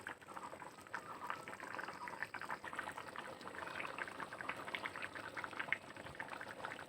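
Bengali bhuna khichuri simmers in a pot, thick rice-and-lentil mixture bubbling with steady soft pops and gurgles, close and continuous without any voices.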